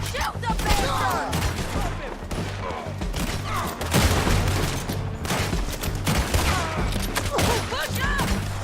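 Rapid gunfire fills a Red Dead Redemption 2 firefight, dense overlapping shots and bursts continuing throughout at close range, mixed with shouted voices.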